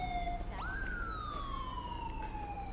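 A police car siren wails in GTA 5 during a chase, a rising then slowly falling electronic tone heard clearly over low traffic rumble.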